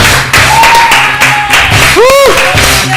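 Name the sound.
applause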